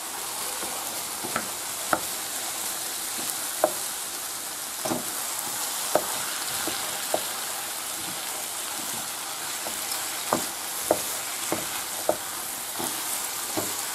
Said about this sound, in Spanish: ahora echamos el arroz. Le damos un par de vueltas